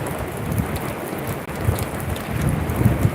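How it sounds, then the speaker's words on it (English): A thunderstorm passes to the south over open country, bringing steady rain hiss with low, rolling thunder rumbles and gusting wind throughout, fairly close and continuous. "But it seems like the storm is kind of skirting to our south"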